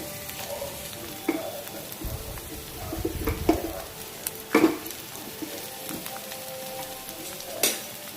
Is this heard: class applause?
no